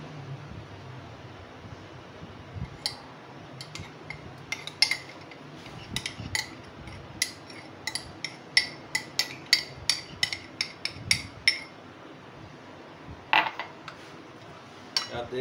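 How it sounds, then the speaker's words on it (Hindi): A spoon clinks and scrapes against a bowl as food is mixed, with sharp metallic taps coming in an irregular run that grows busier midway, over a quiet background with no talking. "तो यार अब हम उसको अच्छी तरह मिक्स कर लेंगे। इसको हमने मिक्स अच्छी तरह करना है।"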